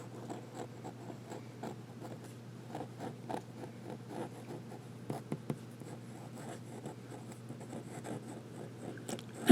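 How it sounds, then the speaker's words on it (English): A vintage Sheaffer school fountain pen dragged upside down across paper, faint soft scratchy strokes in a continuous irregular rhythm, quiet and close, with a low steady hum underneath. "Reverse writing."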